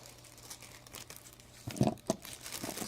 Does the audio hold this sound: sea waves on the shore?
no